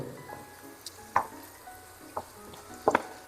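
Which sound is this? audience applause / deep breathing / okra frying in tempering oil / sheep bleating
okra frying in tempering oil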